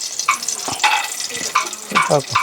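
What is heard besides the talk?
cashew nuts roasting in ghee in a pan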